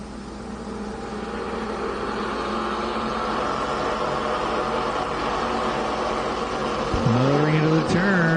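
Race cars run side by side out of a corner and into the next turn, a steady engine roar throughout with a rising rev and a sharp pitch sweep near the end as one car passes close by, with commentary heard over it.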